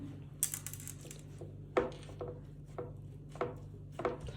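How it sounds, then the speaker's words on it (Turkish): A glass bottom presses down on shredded kadayif pastry in a pan, making soft, irregular thuds and crunchy taps spaced about a second apart over a low steady hum. "Şöyle Zımbalıyoruz. bardağımızın altıyla"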